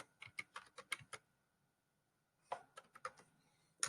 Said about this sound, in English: I'm not the fastest typist in the world.